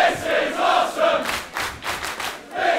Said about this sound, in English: this crowd goes wild with their appreciation